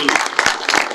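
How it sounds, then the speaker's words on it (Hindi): A short burst of audience clapping at a Hindi comedy poetry event, several quick uneven claps close together over about a second. "जोरदार तालियां बजाएं उनके लिए।"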